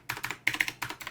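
Typing on an XPG Infarex K20 blue-switch mechanical keyboard without foam dampening, with no case ping: three clusters of sharp, clicky keystrokes in quick succession, close and moderately quiet, each cluster separated by a short pause.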